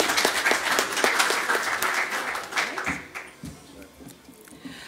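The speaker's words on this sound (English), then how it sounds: "let's give her another round of applause." A second burst of crowd applause rises at a journalism awards ceremony in Namibia, dense at first and then thinning into scattered claps as it fades toward the end.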